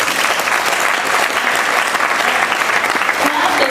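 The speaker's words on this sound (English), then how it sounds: "just clap your hardest if you are answering yes to these questions" An audience at a university motivational speech claps loudly and continuously, a dense, sustained burst of applause.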